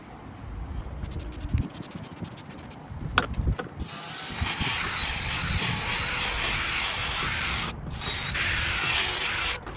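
A sanding disc of 3000 grit works over a Golf Mk5 headlight lens, a steady whirring hiss that starts with a few scraping passes, then holds a loud continuous drone with one short break near the end.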